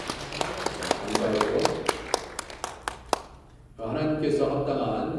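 A church congregation at a Korean Sunday service claps to welcome a guest: a scattering of sharp, uneven hand claps that fade out, followed by a voice speaking.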